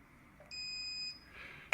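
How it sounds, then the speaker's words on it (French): A single steady electronic beep from an electrical continuity tester sounds for about half a second, high and clear, against a quiet background. "quand je vais toucher donc les deux côtés, ça va se mettre à biper"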